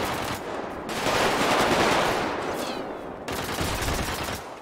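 Automatic gunfire in the video game GTA during a purge night, with dense continuous bursts of rapid shots that fill the whole span, a brief pause, then another sustained volley.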